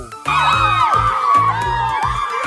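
A friend shouts loudly in celebration over passing the licensure exam. The excited cry is set against a noisy crowd of cheering and whooping voices, close and energetic throughout.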